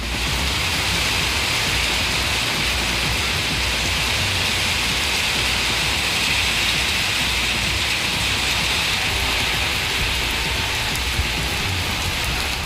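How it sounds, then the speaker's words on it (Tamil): Heavy rain driven by strong wind falls in Tirupattur district, Tamil Nadu, a loud, unbroken wash of hissing downpour that stays even and steady from start to finish. "திருப்பத்தூர் மாவட்டத்தில் வெங்கடாபுரம், மடவாளம், ஜோலார்பேட்டை, ஏலகிரி உள்ளிட்ட இடங்களில் பலத்த காற்றுடன் மழை பெய்தது."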